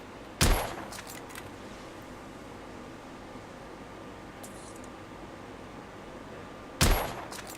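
Two sharp gunshots from The Order: 1886 video game, one near the start and one near the end, each a sudden loud crack with a short tail over a quiet hiss.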